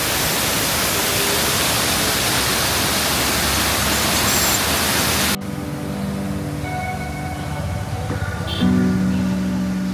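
A waterfall on the mountain road to Spiti roars as a loud, steady rush that drops off abruptly partway, leaving a quieter ambience with faint tones.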